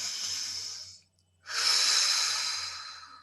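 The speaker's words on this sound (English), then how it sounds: "take a few deep breaths" Two long, slow breaths, an airy hiss drawn out for about a second, a short pause, then a second fuller breath trailing off, close and alone.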